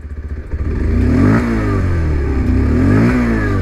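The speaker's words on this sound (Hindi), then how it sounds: "तो सबसे पहले तो एग्जॉस्ट हम आपको सुनाता हूँ" A 2023 Bajaj Pulsar 125 motorcycle revs through its exhaust: a few idle pulses, then a loud climbing rev that dips and rises again, recorded close with no talking.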